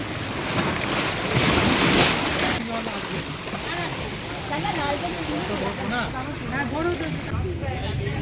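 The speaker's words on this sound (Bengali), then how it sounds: "দেখো জোরে জোরে ঢেউ দেখো ওই ঢেউ দেখো জোরে ঢেউ দেখো" Strong sea waves surge and wash continuously as a loud roaring wash, heavy wind buffeting the microphone, with no voices heard.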